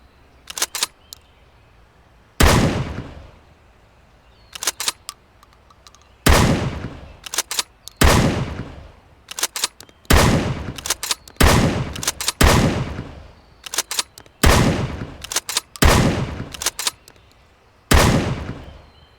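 Bolt-action rifle fired in the video game Road To Vostok, about a dozen loud sharp shots each trailing a long echoing decay, with mechanical clicks of the bolt between them and irregular pauses.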